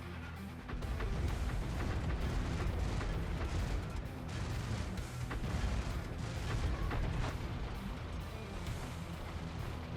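Tank gunfire and explosions from World of Tanks gameplay with a B-C CS 59, heard as a dense, rumbling barrage of booms and blasts blending into continuous heavy noise for the whole stretch, with no talking.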